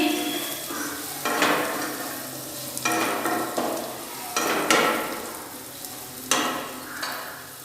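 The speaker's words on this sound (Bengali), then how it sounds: "একটু নাড়িয়ে দিচ্ছি" A spatula scrapes and knocks against a frying pan as food with turmeric is stirred, several distinct strokes spaced a second or so apart over a quiet background sizzle.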